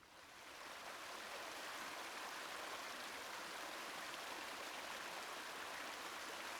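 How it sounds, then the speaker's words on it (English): A small but powerful river rushes over a waterfall in a steady, broad roar of white water, close and unbroken with no voices. "A small river, but quite mighty."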